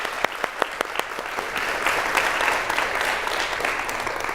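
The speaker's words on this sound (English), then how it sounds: "Round of applause, everybody." Applause from a workshop group in a sculpture garden session, beginning with a few distinct claps that quickly swell into a full, even round of clapping that continues to the end.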